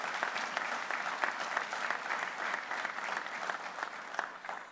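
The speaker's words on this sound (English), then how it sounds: "let's give them a round of applause" Audience applause at a university ribbon cutting ceremony, a steady dense wash of many hands clapping at moderate distance, sustained throughout without breaks.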